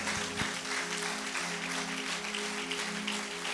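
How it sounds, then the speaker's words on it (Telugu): A church congregation claps during a Telugu sermon, faint and fairly steady, over a low humming drone with one sharper clap near the start. "కొట్టు గట్టిగా చప్పట్లో"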